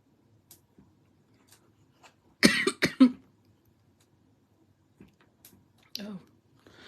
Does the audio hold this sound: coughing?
yes